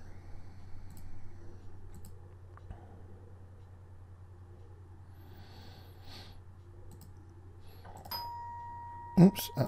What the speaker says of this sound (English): that's someone ringing my doorbell